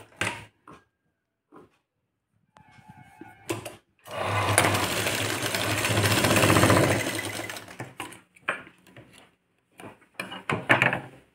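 A sewing machine stitching a blouse bow runs in one steady, close whirring burst of a few seconds. Sparse handling clicks and fabric rustles come before and after it.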